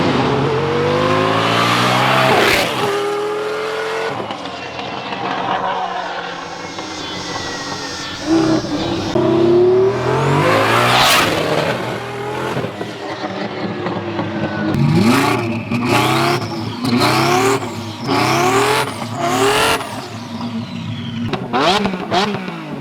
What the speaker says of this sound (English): God bless the V12. God bless the Lamborghini.